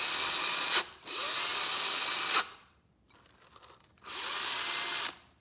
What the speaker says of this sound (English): You know, your drill battery's been going down.